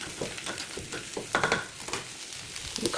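Crushed onion and garlic go into a pot of cooking dal, giving a soft sizzle with light stirring and scraping and a brief louder hiss partway through, all fairly quiet.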